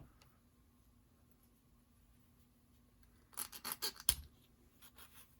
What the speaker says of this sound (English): I'm going to have to do some filing straight away to make that work